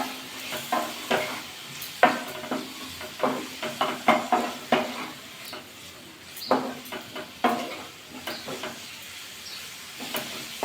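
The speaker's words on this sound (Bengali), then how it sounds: "এবার এতে অ্যাড করবো শুকনো লঙ্কা দেবো 1/2 চামচ, সামান্য হলুদ দিয়ে একটু নাড়াচাড়া করে নেবো।" Dried red chilli and a little turmeric stirred into frying spices for a grape pickle: a spoon scrapes and clicks against the pan in uneven bursts over a soft, steady sizzle, close up and without speech.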